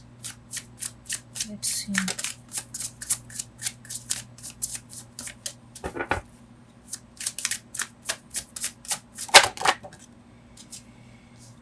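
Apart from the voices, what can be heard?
tarot cards being shuffled and drawn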